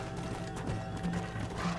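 Horse hooves clop in a quick rhythm over a low hum of game music in Red Dead Redemption, a short steady trot with no voices.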